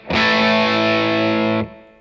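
Electric guitar power chord played through distortion with the third muted, one thick, buzzing chord struck cleanly, held evenly for about a second and a half, then cut off sharply.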